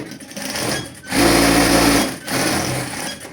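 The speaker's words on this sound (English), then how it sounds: "here you're just going to sew it straight" A sewing machine stitches a straight seam on Christmas pyjamas in short close bursts, a steady mechanical whir running for about a second, pausing, then a louder second run and a third.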